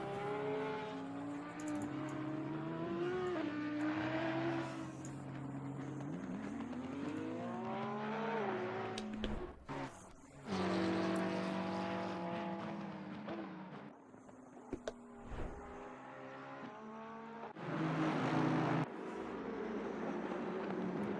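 Aston Martin race cars in Assetto Corsa Competizione, a steady engine drone rising and falling through gear changes, with brief cuts and shifts as the cars run together in a close trio.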